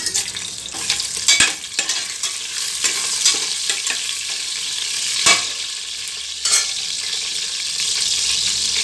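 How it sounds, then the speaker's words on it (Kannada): Whole spices crackle and sizzle in hot oil in a cooker as mutton biryani begins, with a steady close frying hiss, occasional sharp pops and a few louder stirring scrapes throughout. "ಎಣ್ಣೆ ಕಾದಿದೆ ಮಸಾಲೆ ಪದಾರ್ಥಗಳು ಹಾಕ್ತಾಯಿದ್ದೀನಿ"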